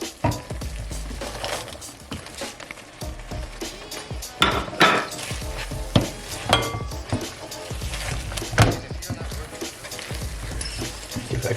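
Peas being stirred into a tomato and basil risotto with butter, a wooden spoon scraping and clattering against the pan over a soft sizzle, with scattered louder knocks and some talking.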